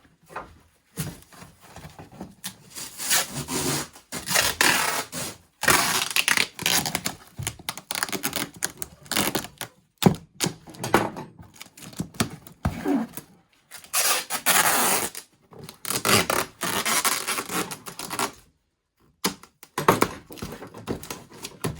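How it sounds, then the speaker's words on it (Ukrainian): Irregular bursts of scratchy tearing and rustling as packing tape is pulled and pressed onto a cardboard box of plant seedlings, with brief pauses between strips. "Тепер закриваємо скотчем."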